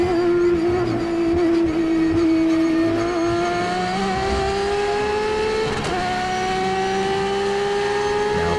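A race car at Daytona howls through the bus stop turns, a loud, steady engine note rising in pitch as it accelerates, with a brief dip and shift partway through and no talk over it.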